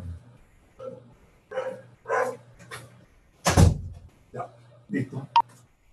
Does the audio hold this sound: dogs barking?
yes